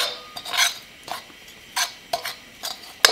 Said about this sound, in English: And then I'm just gonna stir it together.